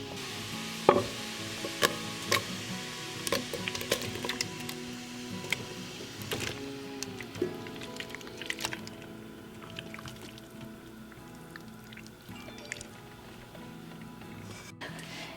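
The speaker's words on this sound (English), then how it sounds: "So we put a little bit of water into one of our big pots and dump the peaches in." Chopped peaches tumble and splash into a big pot of water, with scattered knocks, clinks and stirring noises that gradually settle.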